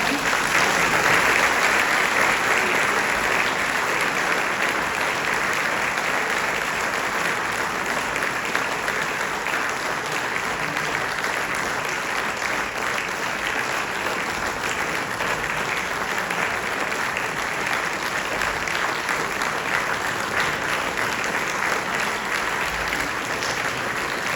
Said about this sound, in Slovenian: Še en aplavz našim slavljicam.